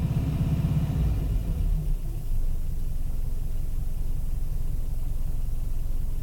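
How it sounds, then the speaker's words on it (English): A car engine idles steadily at about 800 RPM with its alternator running, a low, even rumble holding at a constant level throughout, near and uninterrupted. "And now idling at about 800 RPM"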